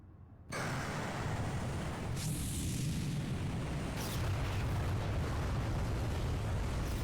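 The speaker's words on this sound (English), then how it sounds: "That's a pretty big explosion." A huge explosion in the video game Legend of Dragoon erupts suddenly after a brief lull and becomes a loud, sustained roaring rumble with a sweeping whoosh layered on top. No one speaks.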